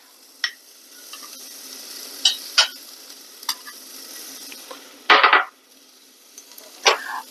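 Garlic in hot oil in a pan gives a soft low hiss under scattered sharp clicks and scrapes of stirring, with one louder, brief burst of sizzling near the end.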